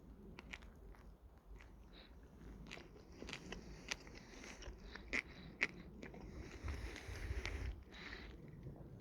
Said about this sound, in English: Hold on, listen to the crunch.